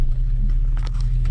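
Steady low engine rumble of a car riding through rural Buryatia, Siberia, loud and continuous for the whole moment with faint rattles above, no talk.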